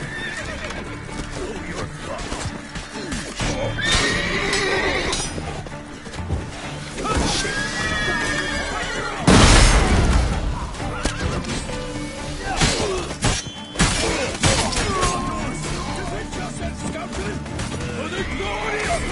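A horse whinnies several times amid clattering hooves and a loud shattering crash, with people talking over the commotion, in The Witcher 3: Blood and Wine.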